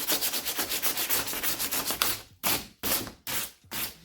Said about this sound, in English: So just sanding it real quick will help smooth it out.